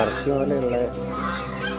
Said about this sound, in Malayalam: ഇവിടെ ടർക്കി കോഴി ഉണ്ട് ടർക്കി പോലെ